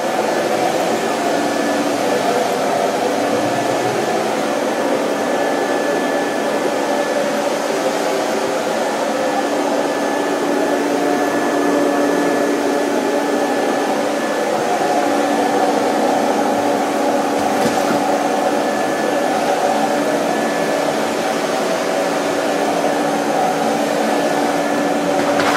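A ProTeam QuietPro backpack vacuum cleaner with HEPA filter roars continuously on carpet at close range, a steady motor whine with airy rushing that never lets up.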